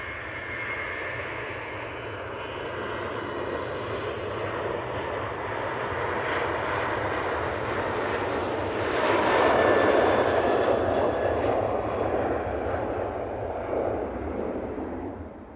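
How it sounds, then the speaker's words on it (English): Boeing 737-800 jet departing Manchester Airport, a broad sustained engine roar that swells toward the middle and eases slightly, heard from a distance with no talking. "737-800 off to Oslo."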